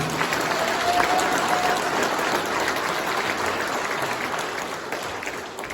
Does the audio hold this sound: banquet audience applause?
yes